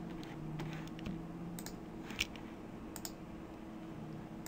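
Quiet, scattered clicks of a computer mouse and keys being pressed while Shift is held, a few soft taps over a steady background hum.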